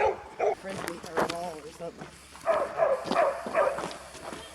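Race dogs running outdoors near Iowa Hill, with scattered short barks and yips mixed with scuffling paws, heard under ongoing talk.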